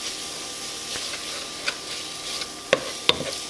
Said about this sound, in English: So I'm going to brown this and make sure it's totally done.